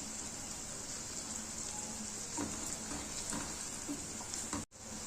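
Crushed, finely chopped garlic and ginger fry in a pan, a steady close sizzle and crackle with occasional stirring scrapes, heard alone.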